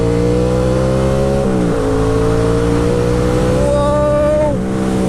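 A 2020 Yamaha MT-07 twin with a full GR Moto exhaust accelerates hard, its loud buzzing engine note rising through the revs, dipping briefly at two gear changes, then climbing again.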